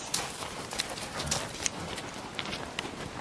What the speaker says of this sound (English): That's a good horsey. You got a good horsey.